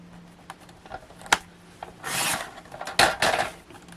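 Cardstock is trimmed for a handmade card, with a couple of short scraping, rasping strokes and a sharp click or two. The sounds are close up and there is no talk.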